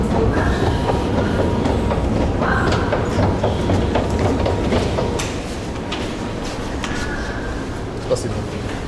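Loud rumbling of a Dnipro metro train in motion, with rhythmic rail clatter, brief squeals, and voices talking over the noise.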